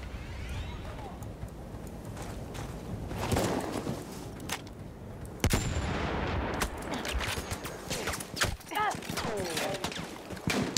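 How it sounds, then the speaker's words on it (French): Heavy weapon firing in Battlefield 1: dense, rolling bursts of loud gunfire and blasts crowd the whole stretch, with sharper reports near the middle and end and a faint voice under the battle noise. "D'accord, c'est une arme lourde ça."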